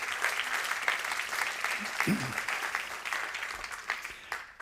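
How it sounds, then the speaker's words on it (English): Scattered applause from a conference audience at a talk on public transport app accessibility, soft and fairly distant, a steady patter of claps lasting a few seconds. "Maybe that's even an applause."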